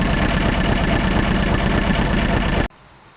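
An Aixam Mega Multitruck engine idles steadily and close up with a constant drone, then cuts off abruptly near the end, leaving near silence.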